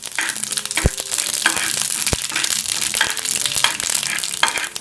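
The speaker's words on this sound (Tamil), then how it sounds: "இப்போ நம்ம கடுகு, உளுத்தம்பருப்பு, கடலைப்பருப்பு போட்டுக்குவோம்." Mustard seeds, urad dal and chana dal crackle and sizzle steadily in hot oil in a pan, with a few sharp pops and occasional stirring scrapes, close and fairly loud with no talking.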